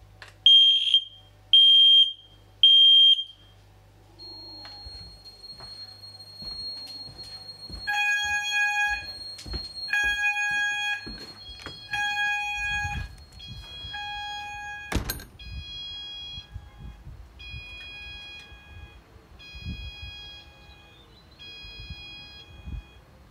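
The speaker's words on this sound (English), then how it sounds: "So I'm gonna go test this carbon monoxide alarm." A carbon monoxide alarm sounds during a test of an addressable fire alarm system: three sharp high beeps, then a repeating series of clear, piercing tonal beeps that continue over clattering and thumping background noise.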